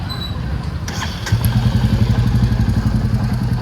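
A Royal Enfield Classic 350 Reborn motorcycle engine runs after an oil change. It is a close, steady thumping idle that settles into an even, rhythmic beat, with no talk over it.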